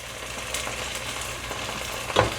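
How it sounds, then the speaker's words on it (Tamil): Tomatoes cooking down into a masala in a pan give off a steady, fairly quiet frying sizzle with soft stirring scrapes, and one louder clatter near the end. "தக்காளி பழம் நல்லா வதக்கணும்."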